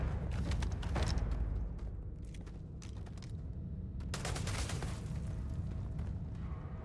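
Dense, continuous gunfire and blasts fill a Starfield firefight, rapid bursts layered over a constant loud rumble with no pauses.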